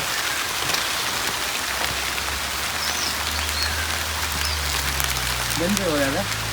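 The first monsoon rain of the season patters steadily on surfaces in a Konkan village, an even, close hiss throughout, with a brief voice-like call near the end.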